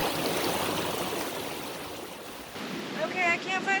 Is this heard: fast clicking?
no